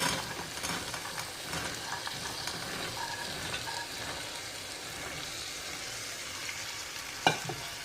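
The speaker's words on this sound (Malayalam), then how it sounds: "ഈ സമയത്ത് നമുക്ക് ഗ്രീൻ പീസ് ചേർത്ത് കൊടുക്കാം" Green peas being stirred into frying curry masala for a Kerala-style porotta curry: a continuous soft sizzle with scraping spoon strokes throughout, close up, ending with a sharper knock, and no talking.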